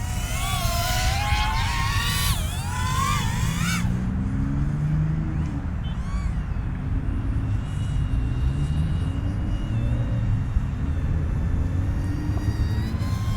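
A Flywoo XBOT65 HD 65mm toothpick FPV drone flies with a continuous high, buzzing motor whine whose pitch rises and falls as the throttle is pushed, staying loud and close throughout.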